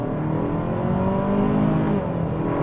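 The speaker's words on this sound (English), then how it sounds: "try out a lower speed acceleration. Not off the line, but low speed acceleration on the gas" A 2024 Hyundai Sonata N-Line accelerating gently at low speed, its engine giving a steady, rising drone from inside the cabin with no talk over it.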